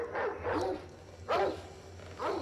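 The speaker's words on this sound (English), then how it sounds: "It's not a real dog." A dog barks in the film Descendants 3, four moderately loud barks spaced about half a second to a second apart, with no talk over them.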